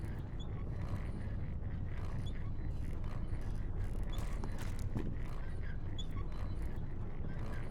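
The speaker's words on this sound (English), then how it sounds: "They're grinding bones." Bone grinder machinery in the video game STASIS: Bone Totem churns and grinds steadily, a dense, continuous mechanical rumble with faint creaks and clanks above it, running alone throughout.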